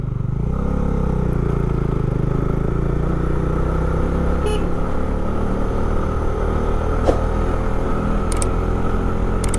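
Motorcycle with worn road tires, about 18,000 km on them, ridden along a mountain road toward Mangan, a steady loud engine drone with wind, a shift in pitch near the start and a few faint rattles.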